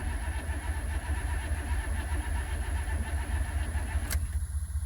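The engine of a 1993 Chevrolet Silverado is cranked over without starting, a close, steady, rhythmic churning that cuts off near the end.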